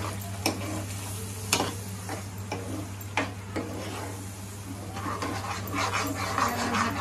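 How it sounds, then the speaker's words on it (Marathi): Ground masala paste stirred in a pan after garlic for a Malvani-style surmai (kingfish) curry: repeated spoon scrapes and knocks over a steady sizzle, with a constant low hum throughout and no talking. "आपण हे वाटण घालून घेऊ याच्यामध्ये। वाटण घालून हे परतून घ्यायचं।"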